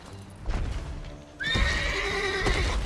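A horse in the video game Witcher 3: Wild Hunt whinnies loudly, a long shrill neigh that rises and wavers, preceded by a brief snort and some hoof-like thuds.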